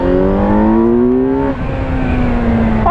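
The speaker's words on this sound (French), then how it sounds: "Ah, la deuxième, elle est vraiment vive sur cette bécane." Kawasaki Z900 motorcycle pulling hard in second gear, a loud close engine note rising steadily in pitch, then dipping briefly on a shift before climbing again.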